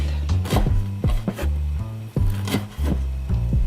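A knife finely slices radish on a wooden cutting board, each cut a crisp, close chop in an irregular run of about a dozen strokes, heard alone with no talk.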